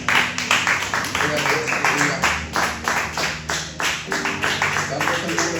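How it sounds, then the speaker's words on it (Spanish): A church congregation claps rhythmically in praise while a preacher speaks loudly over them; the clapping is steady and evenly spaced, running beneath the voice for the whole stretch. "Denle un fuerte aplauso al Señor Jesús."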